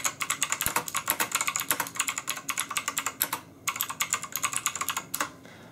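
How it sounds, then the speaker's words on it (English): Fast, clacky keystrokes from a LAPoP JKL300 mechanical keyboard, typed in quick bursts with brief pauses, close and clear with no talking. "that's basically how the keyboard sounds"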